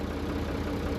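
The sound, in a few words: tractor engine running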